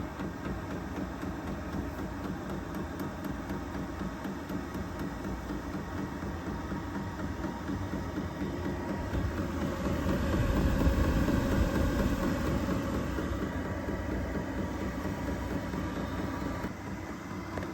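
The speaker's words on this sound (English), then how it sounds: "Typically when it first starts up, that fuel pump pumps pretty fast." A Chinese diesel heater's fuel pump runs in a cargo trailer camper: a steady low mechanical hum and rapid ticking pulse run continuously, fairly quiet, swelling slightly midway before easing back down.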